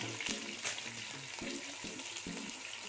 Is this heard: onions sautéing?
yes